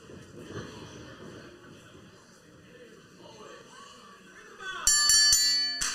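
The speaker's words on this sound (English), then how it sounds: "The bell sounds, and we are underway in our third match of the evening here." Ringside bell clangs sharply in several rapid metallic strikes to start a lucha libre wrestling match, loud and bright after a stretch of quieter arena murmur.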